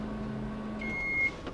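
A microwave oven heating a small portion of meat stuffing hums steadily at low level, and a short high-pitched beep sounds near the end.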